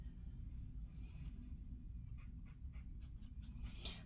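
A Visconti Rembrandt fountain pen nib scratching softly across paper in short rhythmic strokes during the latter half, faint and close over a low background rumble.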